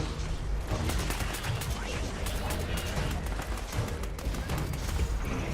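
Dense, continuous barrage of artillery and missile fire in Fallout 76, rapid overlapping blasts and mechanical clatter filling the scene at moderate loudness, with talking mixed underneath.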